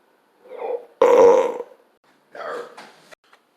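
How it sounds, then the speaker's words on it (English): A person lets out a few loud, close burps. A short gurgle comes first, then a strong burst, then a few weaker croaks after a pause, with quiet between them. "I have to burp."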